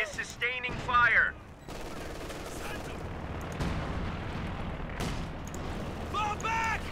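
Sustained gunfire pours onto a fighting position in the video game Company of Heroes 2, a dense continuous barrage of bursts and rumbling impacts, with brief radio-like voice chatter at the start and end.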